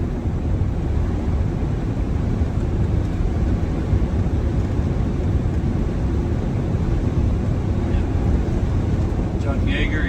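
An overweight bus with a newly fitted turbo accelerates uphill, its engine a loud, steady low rumble and drone heard from inside the cabin, with a voice speaking over it.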